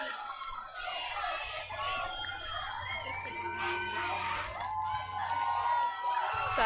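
Crowd of softball fans cheering at the 6A state championship game between Bingham and Riverton, a steady sustained roar with high whoops and shouts rising over it throughout.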